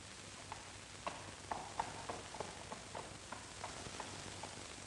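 Horse hooves clip-clop in a slow, uneven walking rhythm, about a dozen soft distinct hoof strikes over a faint, steady background hiss, with no talking.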